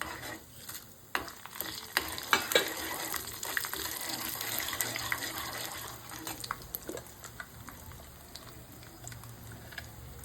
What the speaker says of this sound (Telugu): పోపు కొంచెం వేగుతోంది వేగుతూ ఉన్నప్పుడు ఒక నాలుగు ఎండుమిరపకాయలు వేయాలి